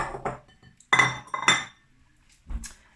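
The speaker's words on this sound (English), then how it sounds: "So I'm going to add my fried breads into a bowl." Pieces of fried bread for a Lithuanian garlic bread salad are dropped into a bowl. A few close, clattering clinks come in quick bursts with quiet gaps between.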